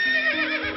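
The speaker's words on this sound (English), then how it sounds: "He began stamping his feet and snorting and shaking his mane." A horse gives one loud, close whinny, a shrill wavering neigh that lasts under a second with faint hoof thuds beneath it.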